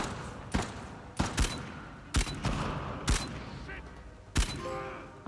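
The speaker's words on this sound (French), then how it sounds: "J'obtiens mon prochain trophée dans un gunfight assez difficile en tuant mon 30e ennemi avec une arme dorée" Gunfire from a difficult gunfight in the video game Uncharted, with five sharp, separate shots at irregular spacing, moderately loud and close.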